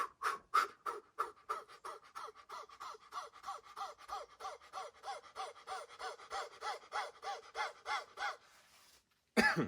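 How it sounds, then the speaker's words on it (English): Kapalabhati breathing: a long, steady run of rapid, forceful nasal exhales, around three per second, each a sharp close puff, ending after about nine seconds with a short pause and one final breath. "you begin to fire a rapid series of exhales"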